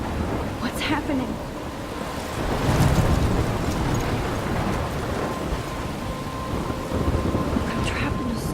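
A video game thunderstorm in Life Is Strange, with rolling thunder swelling over steady heavy rain, a loud rumble peaking midway and continuous downpour throughout.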